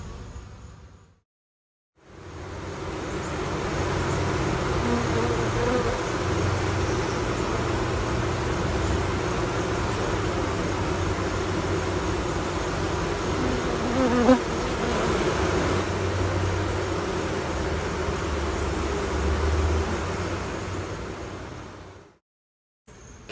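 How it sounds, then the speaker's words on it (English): Dense, steady buzzing of a double-queen honeybee colony fills the recording for about twenty seconds, a low droning hum close by, with near silence at the very start and end. "the double queen colony, which is a ridiculous amount of bees in here"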